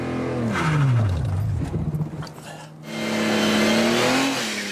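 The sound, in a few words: Nissan 300ZX engine revving during burnout attempt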